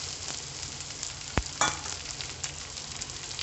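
Onion, garlic and capsicum sauté in a pan for a pasta recipe, giving a soft, steady sizzle with a couple of sharp clicks as they are stirred.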